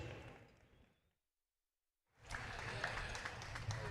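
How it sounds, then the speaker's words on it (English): Applause from spectators for the winning connections of a harness racing trot, a crowd-noise wash that fades into a second of silence and then returns loud and full. "A wonderful round of applause for the winning connections here this afternoon."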